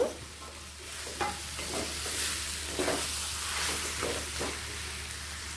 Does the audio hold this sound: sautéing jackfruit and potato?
yes